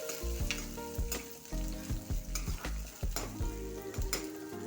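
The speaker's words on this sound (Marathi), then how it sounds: "आणि या लेवलला आपण ग्रीन पीन्स घेतले वाटाण्याचे दाणे ते पण टाकून घेते आणि आता हे छान कांद्यासोबत शिजू द्यायचे" Green peas cooking with onions in a pan while being stirred, a soft sizzle broken by repeated clinks and scrapes of a spoon in an uneven rhythm, close by and without speech.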